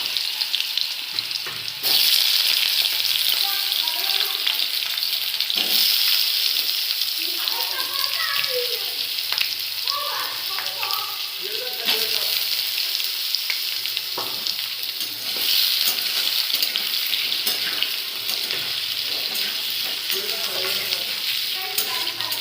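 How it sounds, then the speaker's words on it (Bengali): Potatoes sizzle steadily in a hot pan as they fry until browned, a continuous loud hiss with scattered stirring scrapes throughout and a voice speaking intermittently over it. "আলুটাকে ভালো করে লাল করে ভেজে নিতে হবে।"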